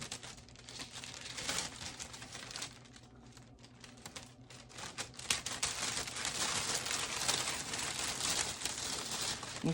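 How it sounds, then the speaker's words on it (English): A plastic bag is cut open at the top, giving close, continuous crinkling and rustling that grows busier and louder partway through. "So what we're gonna do is cut the bag open at the top."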